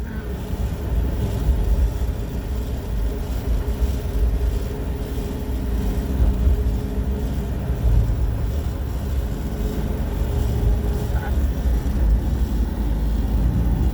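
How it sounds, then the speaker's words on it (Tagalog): A Suzuki DA17V minivan engine running while driving from Cavite City toward Nasugbu, Batangas, heard as a steady low droning rumble mixed with wind buffeting and road noise. "Lakas ng motor, oh. Yung motor, lakas."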